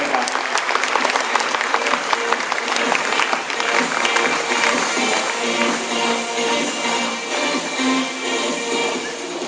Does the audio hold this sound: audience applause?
yes